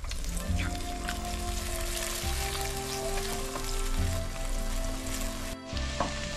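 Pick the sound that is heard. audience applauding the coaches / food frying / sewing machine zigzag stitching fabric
food frying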